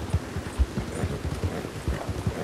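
Horse hooves clip-clop in a steady, even rhythm at a moderate pace, fairly close and somewhat muffled, from the video game Red Dead Redemption 2.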